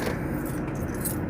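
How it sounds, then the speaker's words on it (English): Car keys for a Jeep ZJ jangle briefly in the cold, a soft metallic rattle over steady low background rumble, no talking. "let's grab the keys"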